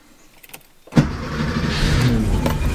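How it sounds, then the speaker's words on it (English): A 1987 Porsche Carrera 3.2 engine cranks and catches at once, then settles into a steady, fairly loud idle close by, with faint clicks just before the start. "Starts up like a dream."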